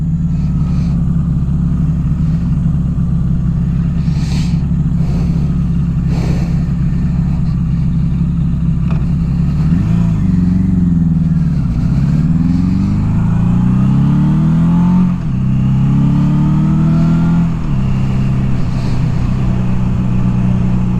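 A 1982 Suzuki GS750T with a high-strung inline-four engine, ridden on the road, holds a steady loud drone, then revs up through several rising gear pulls with dips between shifts, heard close with wind noise and no talk.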